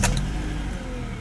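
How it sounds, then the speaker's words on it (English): A warm 2012 Honda Accord SE engine starts up: a short starter burst at once, then the engine settling into a steady, fairly loud idle close by. "Yep, very typical Honda startup"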